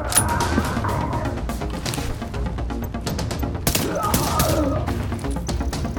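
Gunfire in the video game The Division, a dense stream of heavy shots and impacts under a continuous battle din, with a few louder cracks standing out.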